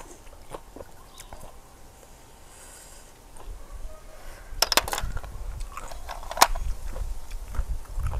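Crunchy shellfish (hoi pang) is bitten and chewed close up in an eating show, with quiet soft chewing first, then louder irregular crunches and sharp cracks.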